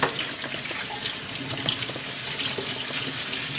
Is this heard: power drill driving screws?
no